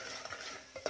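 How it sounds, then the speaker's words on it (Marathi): Roasted masala paste being sautéed and stirred in oil for a Malvani-style white pea curry with a Kolhapuri tadka, giving a soft steady sizzle with a few brief spoon scrapes near the end; no talking. "फक्त मी हे तेलामध्ये थोडं परतून घेते."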